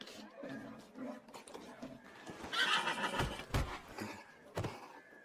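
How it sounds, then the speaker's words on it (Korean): Horses neigh and whinny amid a period war film scene, with hoofbeats clopping and loud whinnies rising near the middle and again toward the end, over a busy background. "전하, 말들이 굶어 죽고 있사옵니다."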